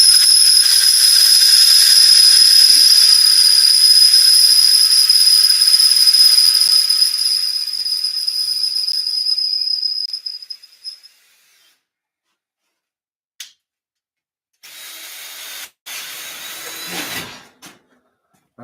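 Drill bit squealing as it bores a hole in a steering component, a loud high-pitched whine holding steady before fading out, followed by a few brief scrapes and a short final grind.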